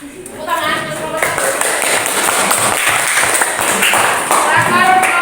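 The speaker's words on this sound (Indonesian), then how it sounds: "Tepuk tangan untuk kelompok" A classroom group claps for presenting group 1, a steady stretch of close, crisp hand claps mixed with voices talking over it.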